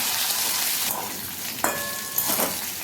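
Taro and potato pieces frying together in a pan for a vegetarian dish, a soft continuous sizzle with a brief clatter of stirring, no voices.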